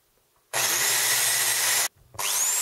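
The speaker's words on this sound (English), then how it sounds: "Drill the hole." A drill with a 0.9mm bit bores a pilot hole into a picture frame, a loud high-speed whine starting abruptly, running steadily for over a second, cutting out briefly, then starting again.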